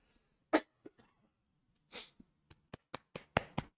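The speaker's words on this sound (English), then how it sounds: "I had to get that cough out." A person coughs in a quiet room: one sharp loud cough, a few smaller ones, then a longer throaty cough and a final run of six quick, close coughs in a row.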